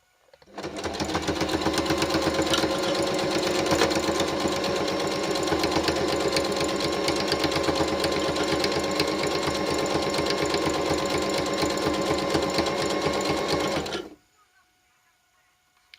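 A sewing machine runs a zigzag stitch at stitch length 2 on hand grips for a disability walker, a loud, steady, fast mechanical whirr with rapid needle chatter lasting about thirteen seconds before stopping abruptly.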